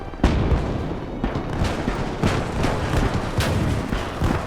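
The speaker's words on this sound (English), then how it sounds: "Alright, mortar." Mortar rounds fire in the World War II video game Gates of Hell, a series of heavy booming blasts with rolling rumble, repeated roughly every second and loud throughout.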